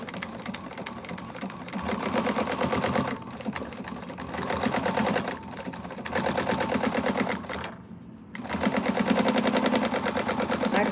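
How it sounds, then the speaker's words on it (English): A sewing machine stitches fabric at a 3/8 inch seam allowance in a quilting setting, running close in steady rapid bursts broken by a few short pauses, with no talking. "So I sew this on at a 3/8 inch seam allowance."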